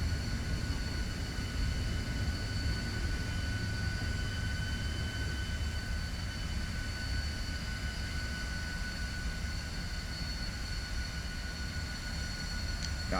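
Aircraft taxiing to park in Microsoft Flight Simulator, a steady low engine rumble and hum with thin high whine tones, continuous and even throughout with no talk.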